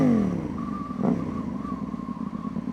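A newly bought motorcycle's engine revs briefly then settles into a steady idle burble, close by and fairly quiet, with no talk over it.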